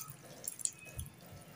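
Water drips and splashes during hand washing at home, a few soft, close droplets and small splashes over a faint background, with no speech.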